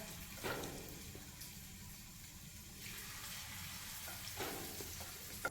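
Jackfruit pakavada frying in hot oil, a steady sizzle and bubbling running throughout with faint stirring and scraping now and then, fairly quiet and with no talk.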